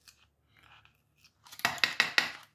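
Scissors snipping through a false eyelash strip, giving a few faint light touches and then four crisp, close cuts in quick succession near the end.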